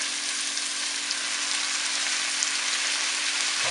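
Noodles for a vegetarian chow mein fry in a hot pan, giving a dense, steady sizzle that holds at an even level throughout, close up with no talking.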